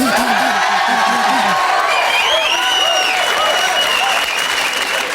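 Loud, dense applause with cheering and whoops from a TV comedy studio audience, sustained throughout, with a band playing a short riff and a voice briefly heard at the start.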